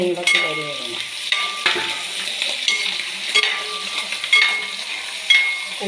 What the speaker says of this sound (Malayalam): ഈ സമയത്ത് നമ്മൾ പച്ചമുളക് അരിഞ്ഞിട്ട് കൊടുക്കുക